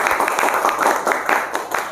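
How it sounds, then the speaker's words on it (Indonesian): A classroom claps for a student group that has just finished presenting. The applause is close and lively and comes in quick uneven bursts of hand claps throughout. "Beri tepuk tangan ya untuk kelompok Irsa."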